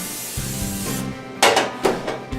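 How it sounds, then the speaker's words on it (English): Grease sprayed into a bundt pan for a caramel snickerdoodle cake: a steady hiss up close, followed by several short, louder bursts and rubbing sounds toward the end. "Then you're going to grease your bundt pan really good."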